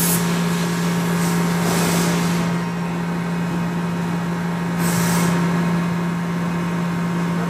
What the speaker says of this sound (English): I'm cutting very slowly on the foot of the tumbler.